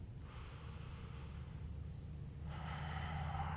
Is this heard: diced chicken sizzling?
no